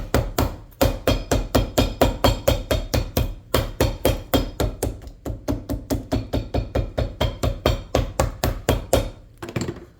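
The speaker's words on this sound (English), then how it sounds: "We just got to hammer it on" Steady, rapid hammer blows driving sole guards onto shoes, around three or four strikes per second, loud and close, keeping a regular rhythm with a brief pause near the end.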